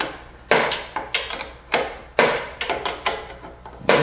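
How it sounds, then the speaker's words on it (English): Mounting bolts on a light guard for a Kubota BX tractor are tightened with hand tools, giving sharp metallic knocks and clanks in an uneven rhythm, close by, with no talking. "So now we're going to tighten it up."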